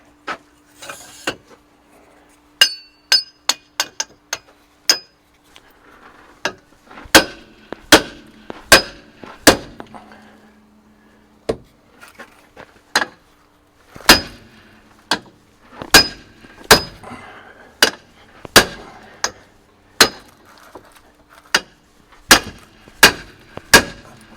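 A 3-pound hammer striking a metal shifter tube on a 1984 Freightliner truck, with sharp ringing metallic blows, some in quick bursts and others spaced a second or two apart, loud and close with no talk.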